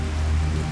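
Steady rain patters down evenly over a low, constant hum, with no voices, filling the whole short stretch at a moderate level.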